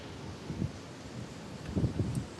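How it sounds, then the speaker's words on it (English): Blizzard wind gusting around a small WinMax wind turbine, a steady broadband rush with louder buffeting surges near the end, no talk. "Here's another gust."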